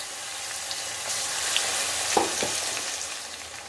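Mustard seeds with urad dal and chana dal frying in hot oil for a tempering for an Andhra-style red chilli pickle, giving a steady crackling sizzle with a few sharper pops, close and alone.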